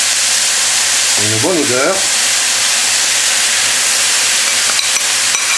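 Seasoning sauce poured over shrimp pad thai with rice noodles sizzles loudly and steadily in a hot pan, with a brief voice speaking early on.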